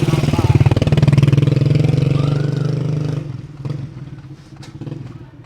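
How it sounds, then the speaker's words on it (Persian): Motorcycle engines run loud and close in the streets of the Persian Gulf port town of Siraf, a steady droning rumble that fades after about three seconds into quieter passing vehicle noise. "یه انتقادی که من دارم به این شهرهای جنوبی موتوراست. آخه خیلی موتورا صدا دارن"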